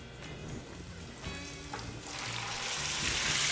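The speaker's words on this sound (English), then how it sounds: "That's sizzle again." Steak sizzles steadily in a hot pan, a crackling hiss that grows louder and denser toward the end.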